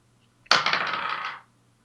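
Dice rolled on a table during a tabletop game night, one quick clattering tumble that rattles for about a second before stopping, close and alone.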